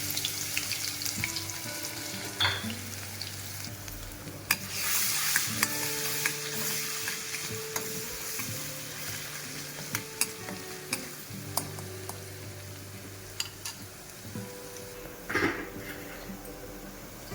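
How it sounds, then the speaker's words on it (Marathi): Ginger-garlic paste and cumin seeds sizzle steadily in hot oil in a home kitchen pan, with scattered clinks and scraping stirs over a continuous frying hiss; no talking. "तसेच अद्रक लसूणची पेस्ट थोडी परतल्यानंतर"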